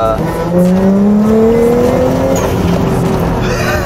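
A borrowed car accelerates on a wet road, its engine note climbing steadily up close as it pulls, with a hiss of tyres on wet tarmac underneath.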